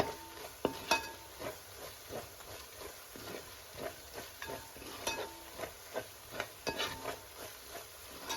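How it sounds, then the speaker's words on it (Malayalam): Chicken curry masala with coriander, chili and spice powders being stirred in a pan, soft scraping strokes and light clinks repeating at an irregular rhythm over a faint low sizzle, quiet and close. "എന്നിട്ട് നന്നായിട്ടൊന്ന് ഇളക്കി കൊടുക്കാം."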